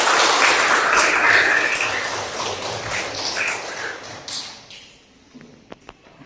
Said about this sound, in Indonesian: Kasih tepuk tangan buat saya.